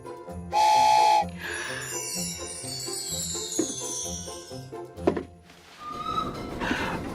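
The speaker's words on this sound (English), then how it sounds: "That sound means the candy cane train is about to make a toy delivery for us to test." A toy-train steam whistle blows once, loud and sustained for about half a second, over a steady chugging rhythm of a candy cane toy train, followed by bright jingling and clattering as the train arrives.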